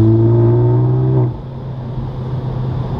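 A Hyundai i30 N-Line fitted with a catback exhaust revs loudly and close in third gear for about a second, then drops back to a low rumbling idle.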